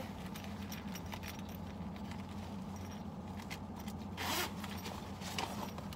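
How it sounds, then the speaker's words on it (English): A chunky zipper on the top closure of a thrifted designer handbag is pulled open in a series of quick, raspy ticks, close and fairly quiet, with a slightly louder rasp near the end. "Nice chunky zipper."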